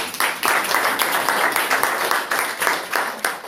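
A congregation at a church service breaks into loud, dense applause with a slightly pulsing rhythm of many hands clapping together, sustained throughout without speech on top.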